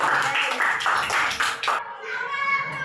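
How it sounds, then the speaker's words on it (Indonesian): A group of students in a classroom clap together in a dense burst of applause for a little under two seconds, then the clapping stops and a quieter tonal voice sound follows. "Tepuk tangan semuanya."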